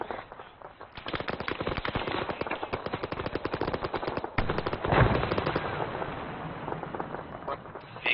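Sustained automatic gunfire in a military video game during an anti-tank engagement with a BTR armored vehicle, rapid dense bursts continuing for several seconds with a heavier boom near the middle, loud and close.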